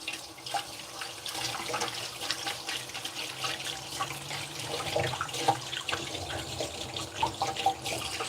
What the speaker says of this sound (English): Wash my hands off a bit.